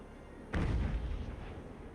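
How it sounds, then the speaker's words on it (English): One heavy cannon shot booms from a sailing warship in the naval battle game Ultimate Admiral Age of Sail. It hits suddenly and loudly, then rumbles as it slowly fades away. "But she has some lethal cannons, it seems."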